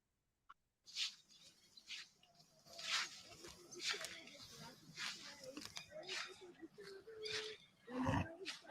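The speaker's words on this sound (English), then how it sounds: "There's like a roar or a snort." Wild deer roaring and snorting at close range, a handful of rough bursts spread across the stretch, with a louder blast near the end and a person murmuring quietly in between.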